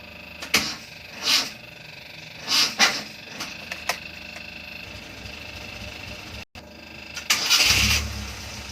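A Mazda Vantrend engine is cranked on a cold morning, with short bursts of starter and revving. It ends in a louder surge near the end as it catches. The sounds are close and under light background noise.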